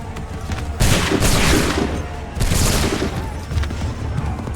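Musket volleys crack out in Assassin's Creed III, two loud, broad bursts of massed fire, each rolling and decaying over a second or more. Continuous battle rumble stays underneath the whole time.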